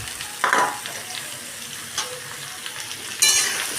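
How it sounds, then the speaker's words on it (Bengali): Potatoes and pumpkin pieces sizzle as they fry in a pan, with a spatula stirring and scraping through them in a few distinct strokes over a steady close hiss. "আলু আর কুমড়োটাকে ভালো করে মিশিয়ে নেব, একটু ভাজা ভাজা করে নেব"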